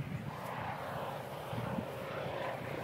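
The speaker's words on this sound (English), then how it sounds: "Helicopter." A helicopter flies overhead outdoors in Pacific Grove, a steady droning engine hum at moderate distance that holds level across the whole stretch, with no talk.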